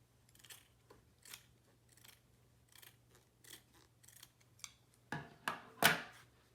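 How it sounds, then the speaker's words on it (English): Scissors snip through a cotton T-shirt along the shoulder seam, a series of soft, evenly spaced cuts that build to a few louder, crisper snips at the end, close and quiet with no talk. "then we can cut along the seam again"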